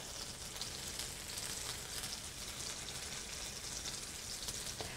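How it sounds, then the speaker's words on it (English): Beef strips searing in a hot pan during stroganoff preparation, a steady close crackling sizzle that holds at an even level throughout with no voices. "I'm now going to add in our beef strips, and we're going to sear this off for 2 to 3 minutes on each side"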